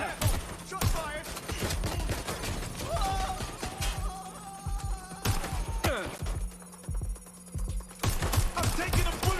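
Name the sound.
gunfire in the video game Watch Dogs Legion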